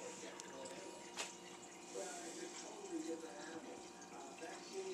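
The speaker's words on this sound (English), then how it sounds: "have to add more water till it gets to the top line" Water pours steadily into a beer brewing bucket, making a faint, continuous splashing wash with a few small drips and gurgles over a low background hum.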